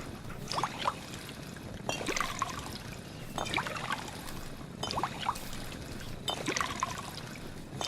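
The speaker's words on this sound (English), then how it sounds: "Now let's see if we're filling with purified water." Water filling at a sink in Fallout 4, repeated short pouring and trickling bursts roughly every one and a half seconds, faint and close, over a quiet low background.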